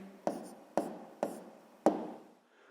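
A pen or pencil writes by hand on paper in four short, scratchy strokes about half a second apart, close and quiet with no talking.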